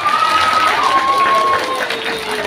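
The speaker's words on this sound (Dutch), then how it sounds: "Nog één groot applaus." A crowd at a fan day Q&A show at Duinrell in 2024 applauds and cheers, a dense, steady wash of clapping and voices with a few whistle-like tones on top.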